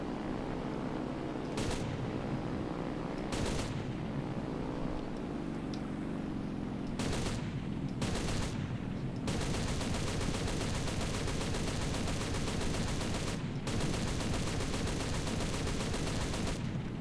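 Aircraft machine gun fire in the War Thunder combat flight simulator, loud sustained rattling bursts with brief gaps, running continuously over engine drone with no talking.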